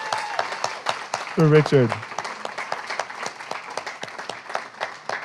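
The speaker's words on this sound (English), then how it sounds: "So a big round of applause" Audience applause at a memorial poetry reading for Richard Siken, a National Book Award finalist: scattered clapping spreads through the room, with a brief spoken phrase from the host partway through.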